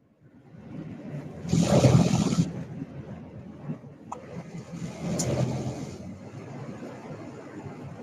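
A car on a daily drive to work, its engine swelling into a louder surge early on, then easing to a steady hum with a second, milder rise later, heard from inside the vehicle.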